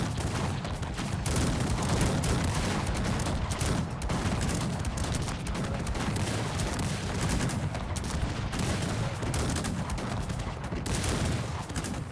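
Dense, continuous gunfire crackles without pause in Cossacks 3, many weapons firing at once in a loud, sustained battle din.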